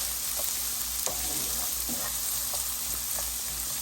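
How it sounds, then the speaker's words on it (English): Onion frying in hot oil, with a steady close sizzle and crackle that continues throughout, broken by small pops and the occasional stir. "So now the oil is nice and hot. We're just going to add our onion. And just brown it a little bit."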